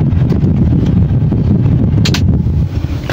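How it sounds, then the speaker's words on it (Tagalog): A car's air conditioner runs with a steady broadband blowing hiss and low rumble from the vents inside the cabin, constant and fairly loud throughout, with no talk. "Patayin natin yung aircon para medyo tahimik"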